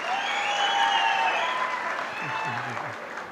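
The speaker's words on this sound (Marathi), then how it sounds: "त्या सर्व टीमसाठी एकदा जोरदार टाळ्या होऊ देत" A crowd at a company Founder's Day event applauds the marketing team with a dense burst of clapping that swells at first and then gradually thins out over a few seconds.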